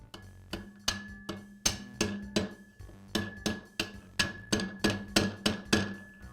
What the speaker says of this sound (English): I'll place the bearing inside the wheel and then use a large socket to tap it into